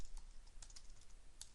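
Quiet keystrokes on a computer keyboard entering text into a software dialog, a sparse run of light clicks with a few sharper taps, close and alone with no voices.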